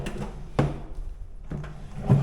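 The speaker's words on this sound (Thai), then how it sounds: "อันนี้คุณกุ๊กก็ทำขึ้นมาใหม่ เป็น ลิ้นชักนะครับ" A newly built drawer in a renovated Bangkok condo is opened and closed, giving a few solid close-up thuds and slides spread across a quiet room.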